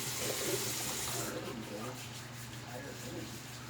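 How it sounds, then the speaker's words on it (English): Water splashing and rubbing over a face at a sink before a shave, a steady close wet wash with a faint mains hum beneath it, easing a little in the second half. "So let's wet the face again"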